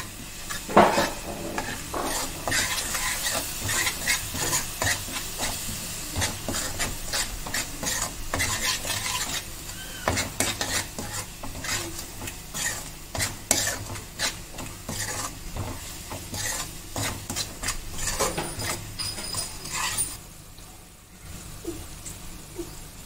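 Fish curry is stirred in a sizzling pan after chilli powder and salt go in, with continuous scraping and spoon clatter over a frying hiss, fairly faint and with no talk.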